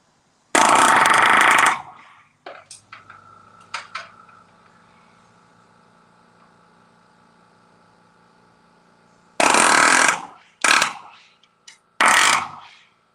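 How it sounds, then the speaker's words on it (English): A palm nailer drives nails into roof trusses, loud rapid rattling bursts of about a second each, one early and three near the end, separated by quieter tapping and a long low hum. "one palm nailer. One bunch of nails."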